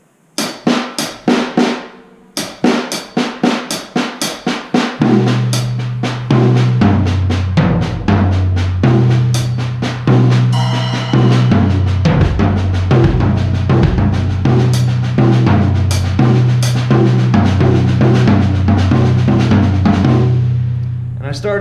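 Drum rudiment sticking built on a right-left-left paradiddle variation, opening with sparse, evenly spaced strokes before a fuller, steady groove of rapid repeated hits with sustained low tones underneath, loud and close throughout.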